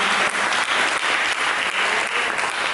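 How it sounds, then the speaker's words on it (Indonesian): A church congregation claps during a sermon, a thick and continuous burst of applause from many hands, loud and close, filling the short moment with no talk over it. "Berikan tepuk tangan bagi Tuhan."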